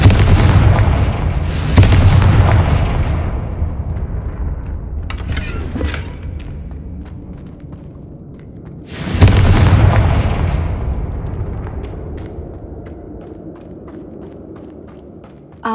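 Confringo fire spells in Hogwarts Legacy burst twice with heavy booming explosions, each blast followed by a long fading rumble, alongside some faint footsteps and movement in between.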